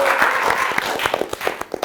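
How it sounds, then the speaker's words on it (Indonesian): Studio audience applause at an Indonesian football talk show, a dense sustained patter of many hands clapping throughout, fairly loud and close with no talking over it. "Tepuk tangan dulu dong."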